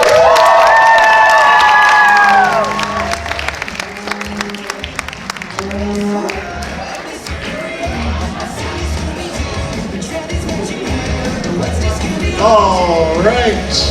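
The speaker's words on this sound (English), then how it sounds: "Clap so they come down too." A theatre audience claps and cheers loudly during a spooky-themed stage show, with children shouting and whooping amid the sustained applause. The noise dips slightly midway, then swells again.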